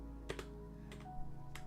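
Keys on a lit-up computer keyboard are pressed in a few sparse, close clicks, mostly in pairs with pauses between, heard quietly over a low steady hum and no talking.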